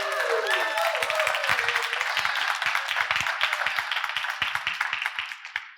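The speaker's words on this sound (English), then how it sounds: "Let's give him a round of applause." A summit audience bursts into loud applause, a dense run of claps that holds steady and then thins slightly toward the end, with a voice briefly heard at the start.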